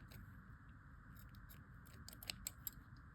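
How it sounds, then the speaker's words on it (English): Dull scissors snip at a frayed bracelet cord in a few quiet, close cuts, with three sharper snips near the end against a faint background hum. "I need to get some sharper scissors."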